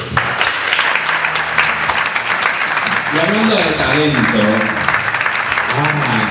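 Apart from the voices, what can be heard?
strong applause for Gabri and Víctor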